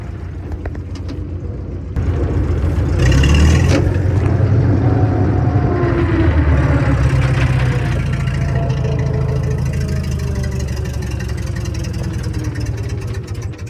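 A 1942 Caterpillar road grader engine throttling up from idle into a loud, deep, steady roar with rattling mechanical overtones, heard close by and alone.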